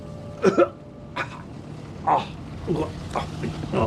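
Several short, harsh coughs from a man in separate bursts during a doctor's examination, close by, with brief pauses between them and a quiet room behind.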